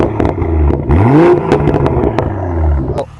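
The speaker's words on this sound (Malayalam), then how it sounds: "സെക്കൻഡ് തിങ് ഇതിൻ്റെ എക്സോസ്റ്റ് നോട്ടാണ്." A BMW Z4 M40i sends out a close, loud exhaust note as the engine is blipped, its pitch sweeping up and falling back in two short revs with a rumbling idle between.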